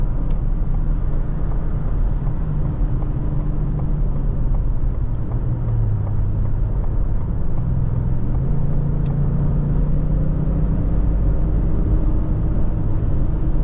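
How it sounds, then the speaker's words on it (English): Steady broadband road and wind roar from inside a 2023 Lincoln Navigator Reserve cruising at highway speed, a continuous low rumble with no talking. "now we're up on the highway, feeling good."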